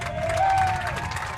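At a high school homecoming football game, the crowd cheers with a steady, distant roar of many voices. Whistles and shouts rise out of it briefly, with no distinct claps.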